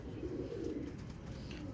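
A teddy pigeon coos close by in low, soft, rolling murmurs that run almost continuously with no talking.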